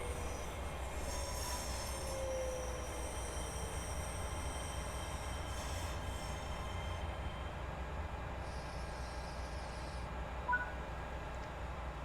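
A train runs on rails in the video game Train Sim World 6, a steady low rumble with faint high wheel squeal, continuous and even throughout with no talk.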